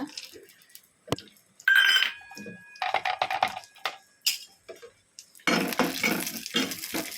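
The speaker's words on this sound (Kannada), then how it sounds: "ನಮ್ಮ ತುಪ್ಪ ಪಾಡ್ಗ ಒಂಜಿ ಚಮಚದಾತು ಇತ್ತೆ ನಮ್ಮ ಒಂದೇನು ಡ್ರೈ ಫ್ರೂಟ್ಸನ್ನು ಫ್ರೈ ಮಲ್ತೆತ್ತೊನ್ಗ" Dry fruits frying in a spoonful of ghee in a kadai, with scraping, clinking spoon-on-pan stirring and short pauses, then a louder, continuous sizzle at the end.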